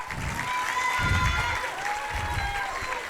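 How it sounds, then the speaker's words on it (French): Gala show audience at the Palace applauding performers on a host's cue, a sustained crowd clapping wash with some cheering, moderately distant, with faint voices mixed in. "Allez, on les applaudit, s'il vous plaît."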